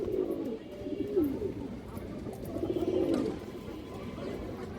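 Pigeons at a pigeon farm coo in two soft, warbling phrases against a busy background hum, with faint talk in the distance.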